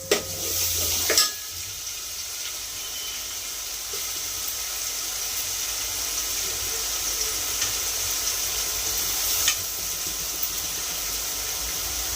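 Ground spice paste frying in oil in a pan, a soft, steady sizzle with faint crackle, preceded by a brief clatter at the start and a small knock later.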